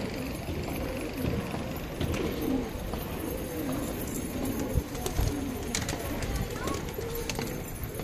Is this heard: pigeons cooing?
yes